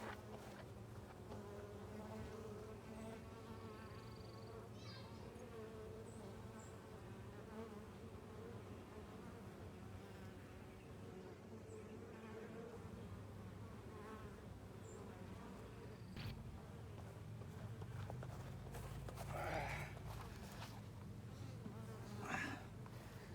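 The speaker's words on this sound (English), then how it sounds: "first thing I'm gonna do is move the bees out of this hive" Honey bees in an apiary hum around a hive in a dense, continuous close-up drone lasting the whole stretch, with a few faint knocks and handling sounds beneath the swarm.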